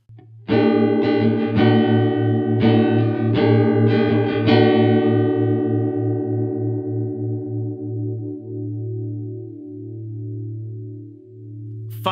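Electric guitar run through a Digitech Luxe detune pedal pushed to an extreme, sour setting, with a burst of strummed chords followed by a long, heavily warbling and beating sustain that decays slowly, loud with no voices.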